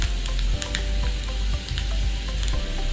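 Mustard seeds, cumin and chopped garlic sizzle in hot oil for a tempering, a loud steady hiss close up with scattered crackles and pops and the occasional scrape of a spoon.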